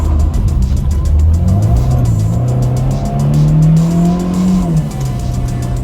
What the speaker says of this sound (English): I've got one last big wheel spin when I pull out of here